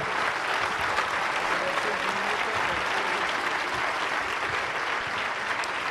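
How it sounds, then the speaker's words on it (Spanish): An audience at an evening church debate applauds steadily, a dense, even wash of clapping filling the whole clip with crowd noise beneath. "vamos a darles un buen aplauso a todos estos dos varones esta noche"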